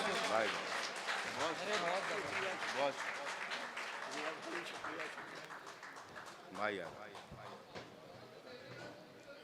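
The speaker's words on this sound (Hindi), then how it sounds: "एक बार जोरदार ताली से इस्तकबाल किया जाए दोस्तों" Applause at an Urdu mushaira poetry gathering greets a poet, with scattered clapping and crowd noise mixed under loud voices and cheering throughout.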